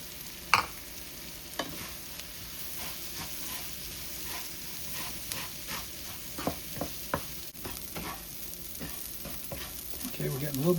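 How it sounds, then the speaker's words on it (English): Rice toasting in a frying pan for Spanish rice gives a soft, steady sizzle, broken by repeated sharp scrapes and clacks of stirring, close and unaccompanied by talk. "we're just going to put our rice in. Get a little toast on this rice"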